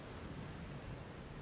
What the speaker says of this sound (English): It's been raining almost nonstop since I got home.